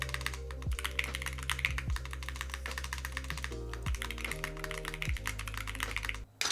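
Steady typing on a mechanical keyboard with black PBT keycaps, fairly muted keystrokes clattering in quick uneven bursts throughout, close up, with no voices.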